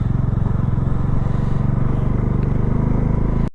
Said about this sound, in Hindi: हम 70-80 किलोमीटर की अभी बाइक राइड करने वाले हैं पहाड़ों में ही